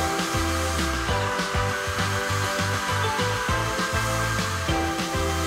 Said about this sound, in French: passe-les sous un sèche-cheveux. Ça fera fondre la cire dans le tissu.